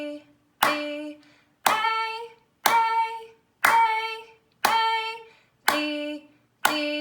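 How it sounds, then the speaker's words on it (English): Hands clap out the rhythm of violin and viola music notes, seven crisp, evenly spaced claps, each followed by a sung note name ringing out. "Our second step is to clap the notes and say their note names"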